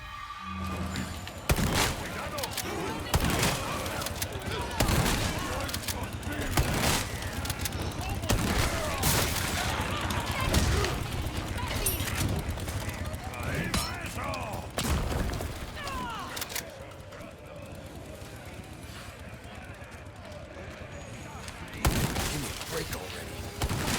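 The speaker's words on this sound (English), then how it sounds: "This unupgraded shotgun is absolutely awful." Repeated unupgraded shotgun blasts in Resident Evil 4 (2023), loud booming shots at irregular intervals over busy game combat noise, with talk over parts of it.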